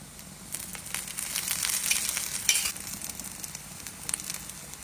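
Bamboo-shoot dosa fries in oil, a soft close sizzle rising as oil is added, with crackling bursts and light scraping over a quiet background.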